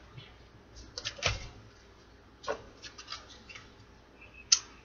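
Tarot cards are shuffled by hand in a few quick, soft riffling bursts with pauses between them, close by and fairly quiet, ending in one sharper snap.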